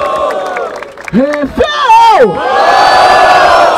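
A crowd at a rap battle, the 174th Batalha da Aldeia in Barueri, São Paulo: a loud shouted call from one voice rises into sustained cheering and roaring from a close, dense audience.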